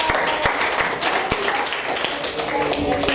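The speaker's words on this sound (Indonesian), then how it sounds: "tepuk tangan buat Steven" Applause for a student in a classroom lesson, with scattered claps and a few sharp taps rising over a steady murmur of voices, close and moderately loud for about three seconds.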